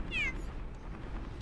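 A cat meows in the video game Super Mario 3D World: one short rising-and-falling mew near the start over faint game background, followed by a brief sharp burst of another game sound at the end.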